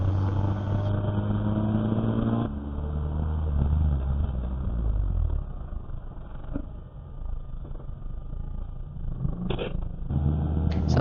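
A race car heads out to the starting grid at Brands Hatch during a JSCC race meeting. Its engine roars loudly and steadily from close by, with the tone dropping and rising as it changes gear.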